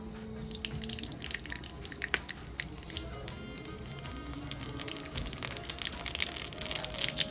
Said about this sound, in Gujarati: રાઈ આપણી ફૂટી ગઈ છે.